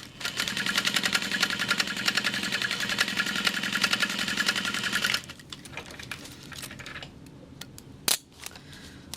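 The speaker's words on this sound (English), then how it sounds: "And now piece O gets sewn to the bottom." A sewing machine runs at a steady fast stitching rhythm while joining a bottom panel to a crossbody bag, loud and continuous for about five seconds before stopping, followed by faint handling noises and a brief sharp click.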